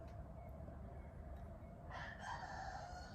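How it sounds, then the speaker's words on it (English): A rooster crows in the distance, faint against a steady low background hum, its call rising near the end. "My rooster's going out of control."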